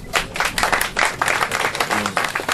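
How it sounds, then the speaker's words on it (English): An audience claps in a dense, even burst of many hands, fairly close, lasting a couple of seconds without a break. "Round of applause, please."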